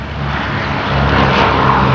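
Loud, close roar of the B-17G Flying Fortress's 1,200-horsepower 1820 radial engines as it prepares for takeoff at an air show at Clark County Airport, a dense, steady propeller drone building slightly, with no voices.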